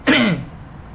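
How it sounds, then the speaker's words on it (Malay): A single sharp throat clear or short cough close to the microphone, loud and abrupt, fading quickly into quiet room tone. "sekejap saya nak terbatuk"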